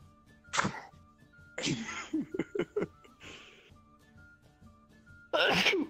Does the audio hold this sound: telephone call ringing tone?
no